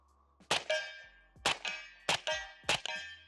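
A suppressed Sig MCX rifle fitted with a Nomad titanium suppressor fires four sharp, ringing shots at roughly even intervals, each followed by a brief clanging echo, with no talk.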